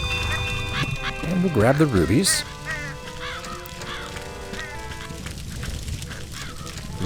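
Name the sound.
birds squawking in a tree in Ultima IX Ascension video game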